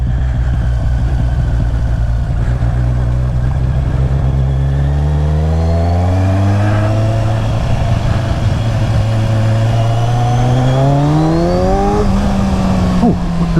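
A 2015 Kawasaki Z1000 motorcycle fitted with a K&N air filter revs hard while riding, loud induction roar rising through the gears in repeated climbing sweeps, close and continuous with wind noise.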